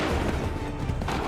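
A massed musket volley in an Assassin's Creed 3 cutscene roars as one dense, continuous blast of overlapping shots with booming low rumble.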